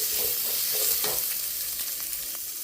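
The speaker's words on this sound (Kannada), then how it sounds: "ಈರುಳ್ಳಿ ಚೆನ್ನಾಗಿ ಫ್ರೈ ಆಗಲಿ." Onions sizzle and crackle steadily in a hot pan for brahmi chutney, with occasional soft stirring scrapes, close and continuous with no talk.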